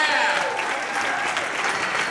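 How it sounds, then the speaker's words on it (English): Steady applause from an audience fills the whole moment, dense and even, with a faint trace of voices mixed into the clapping. "Nice round of applause for Mac Livingstone"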